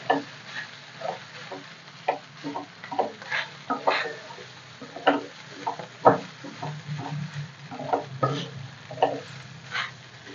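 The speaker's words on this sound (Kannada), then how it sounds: "ಇವಾಗ ಅನ್ನ ರೈಸ್ ಹಾಕ್ತಾ ಇದ್ದೀನಿ. ರೈಸು ಚೆನ್ನಾಗಿ ಮಿಕ್ಸ್ ಮಾಡ್ಕೊಳ್ಳಿ." A spoon scrapes and stirs cooked rice into capsicum rice bath in a pan, making soft, irregular scraping strokes with light sizzling between them and no talking.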